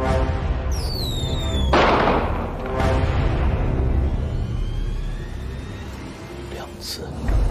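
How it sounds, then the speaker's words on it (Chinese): Fireworks are set off in a Chinese fantasy drama scene: descending whistles lead into a sharp bang, then further fainter crackles and bursts follow over a rumbling background. "放烟花啊！"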